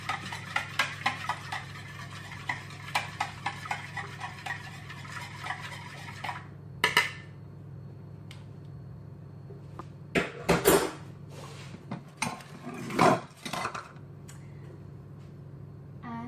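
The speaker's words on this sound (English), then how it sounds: "Vanilla goes in. Gonna give it a quick whisk." A whisk rattling quickly against a bowl while vanilla is mixed into chocolate muffin batter, a steady run of clinks, then a pause and a few louder knocks and scrapes, close up with no voices.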